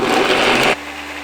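A blender whirs at high speed through coconut cashew yogurt ingredients, a loud dense whine that cuts off abruptly partway through, leaving a quiet room, with no talking.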